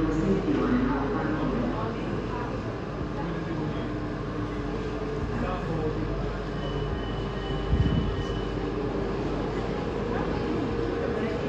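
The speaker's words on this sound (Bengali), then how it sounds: "লেপান্তো ট্রেন স্টেশন।" A train at Lepanto station in Rome, with a steady low rumble of the carriages and platform ambience throughout and a brief thump near the end.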